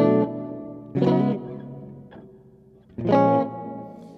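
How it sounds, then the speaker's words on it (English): An electric guitar picked with a 3D pick, giving loud, bright plucked notes whose attacks sound doubled as if delayed. Two strong strikes and a softer one ring out alone with a quick decay. "at our 3D pick, see what that sounds like."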